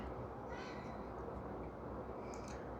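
A pet cat meows indoors, a couple of soft, fairly distant cries rising over a steady broadband hiss of room noise.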